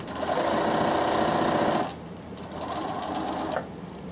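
A Bernina sewing machine stitching at speed, a close, steady mechanical whir that stops briefly and then runs again for a second shorter burst, with no voices over it.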